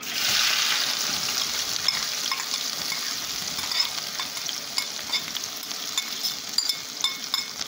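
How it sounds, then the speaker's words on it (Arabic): Whole spices toasting in hot oil in a pan give a steady, close sizzle and frying crackle, with stirring and small pops, before onions are added; no one talks. "نزلهم كده مع الزيت كده واحمصهم شويه"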